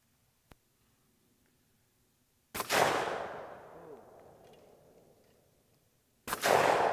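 Shotgun blasts ring out at a hunting preserve shoot, two loud sharp reports a few seconds apart, the first trailing off in a long rolling echo across open ground, with a faint click beforehand.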